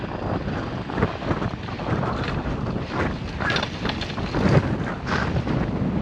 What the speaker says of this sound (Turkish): Arkadaşlar bayağı rüzgar var yalnız.